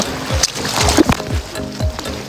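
A ball splashing into swimming pool water, with loud, close sloshing and churning water that comes in a few surges over a short span.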